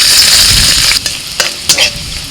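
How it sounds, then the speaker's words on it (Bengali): Dried red chilies and chopped garlic fry loudly in oil, a dense close sizzle that drops slightly midway, broken by a few sharp scraping stirs of a spatula near the end, with no talking. "কয়েকটা শুকনো লঙ্কা তেলের মধ্যে ভেজে নিচ্ছি রসুন কুচি"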